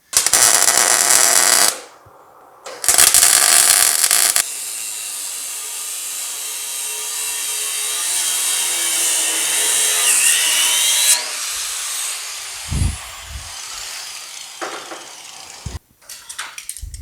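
A steel rod on a wire frame buck for a 1940 Ford coupe inspired hot rod is cut off, with loud harsh bursts of cutting noise and then a long sustained metallic whine that fades into a few knocks.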